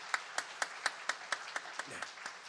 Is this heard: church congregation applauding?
yes